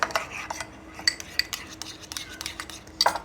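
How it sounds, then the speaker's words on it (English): A utensil stirs an eggplant sandwich mixture in a bowl, making irregular close clinks and scrapes in quick succession with short pauses, all without talk. "All right, so now we've got to stir this up."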